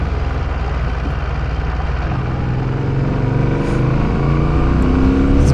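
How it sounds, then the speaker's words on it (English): A Fantic Caballero 700 scrambler motorcycle with a Euro 5 exhaust rumbling steadily up close, a continuous deep burbling engine note that swells slightly louder toward the end, with no voices over it. "It's giving all the right burbles, it's not muted at all."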